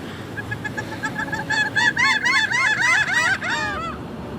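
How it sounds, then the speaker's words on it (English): A series of high, nasal laughing gull calls that build into a rapid laughing cackle, fairly close and loud over a low background rumble. "these migratory birds are easily distinguished by their dark heads, webbed feet, and calls that sound like high-pitched laughter"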